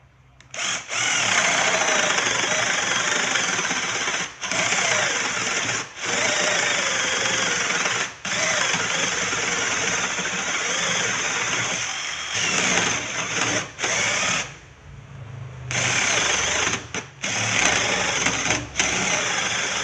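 A HiLDA cordless battery drill on a full charge whirs steadily and loudly at close range, with several brief stops and restarts between long runs; no voices are heard.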